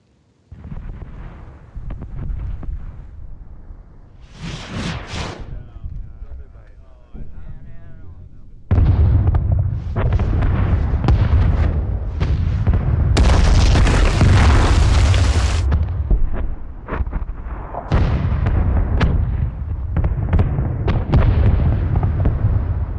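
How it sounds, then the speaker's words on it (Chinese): A war film artillery barrage opens with scattered booms. Then a continuous wall of heavy, loud explosions rolls on, dense blasts overlapping one another for many seconds, with voices shouting faintly under the din. "537呼叫炮击"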